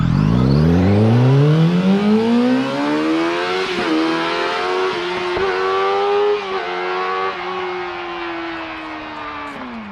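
Castle Stampede RC truck launching alongside a Honda CBR600RR motorcycle, a loud engine rising sharply in pitch through several gear shifts and fading gradually as it pulls away.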